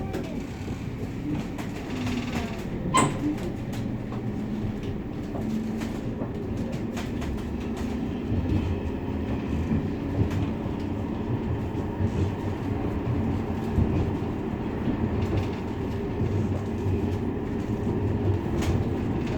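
A train rolls steadily along the rails near Wolverhampton, its continuous rumble and clatter heard from inside the carriage, with faint squeaks and clicks and no talk.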